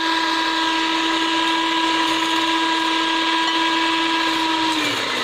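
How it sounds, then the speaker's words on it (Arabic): An electric mixer beats eggs for a cake, giving a steady, loud, high whirring drone that runs unbroken throughout, its pitch dipping slightly at the very end. "كنطربوا البيض نتاعنا بالخلاط الكهربائي"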